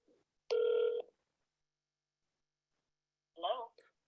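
During a public board meeting, a phone call rings out to a speaker. One steady electronic ring is heard, then a short burst of a faint voice, all quiet and thin over a phone line.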